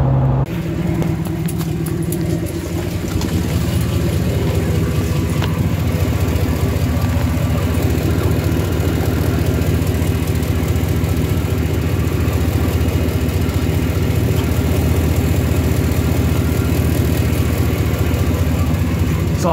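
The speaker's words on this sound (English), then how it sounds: "Exhaust leak." A car idling with an exhaust leak, a steady low rumbling drone held close and loud throughout, with a faint ticking texture running through it.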